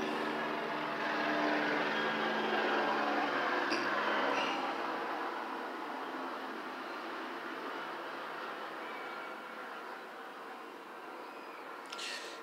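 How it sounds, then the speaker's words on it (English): A police helicopter passes overhead, its broad rumbling drone loudest early on and then slowly fading into the distance, with no talking. "Hold on, we got a helicopter."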